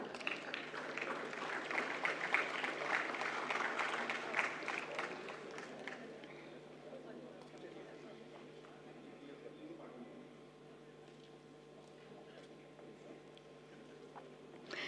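Audience applause for a school's award team at an intellectual property conference, dense clapping loud at first then thinning into a lighter, scattered patter over room noise.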